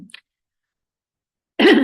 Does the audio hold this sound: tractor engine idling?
no